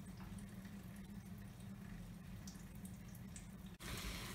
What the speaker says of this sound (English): Add 1 cup of water to your pot.